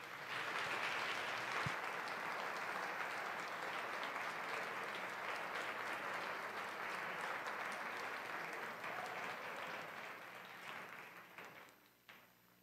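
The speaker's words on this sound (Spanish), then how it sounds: "Un fuerte aplauso a nuestras panelistas." Warm, sustained audience applause for a panel at a communication research association event, many hands clapping steadily for about ten seconds before fading out.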